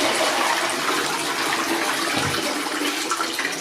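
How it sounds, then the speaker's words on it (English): A toilet flushes close up during a bathroom repair after unblocking, a loud steady rush of water that fills the whole stretch without letting up. "I'm going to flush it and I'm going to test if it leaks"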